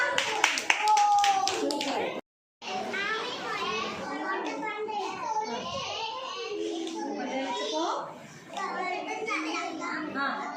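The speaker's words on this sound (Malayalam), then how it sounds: "നമ്മുടെ റയാനൊരു ക്ലാപ്പ് കൊടുക്കടാ" Pre-primary schoolchildren in a classroom clap quickly for a classmate in a short burst at the start, then lively children's chatter and voices fill the room.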